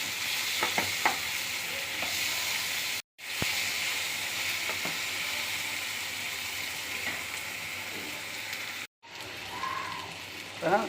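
Chillies and ginger garlic paste sauté in a pan for Chettinad chicken sukka, with a steady close sizzle and repeated scraping stir strokes running throughout, broken by two brief cuts to silence.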